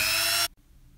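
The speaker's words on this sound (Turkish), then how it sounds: "Bizim böyle hobi matkabı diye, el matkabı diye aldığımız böyle küçük bir matkap vardı." A small hobby hand drill boring holes for screws while converting an IKEA Kallax bookcase gives a loud, high-pitched whine for about half a second, then stops abruptly into near silence.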